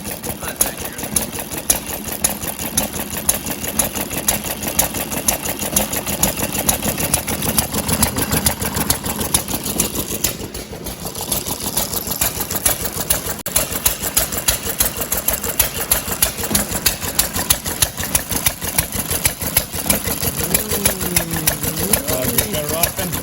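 An 80-year-old odd ball engine with four cylinders and rough welds running just after its first start, a fast, steady mechanical clatter that holds an even rhythm throughout, with people talking over it near the end.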